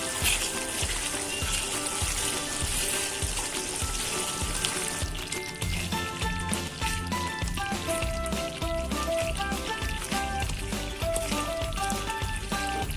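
Water pours into a pan for rajgira sheera in a steady rushing stream for about five seconds, then the pouring stops and quieter kitchen sounds with faint tones carry on.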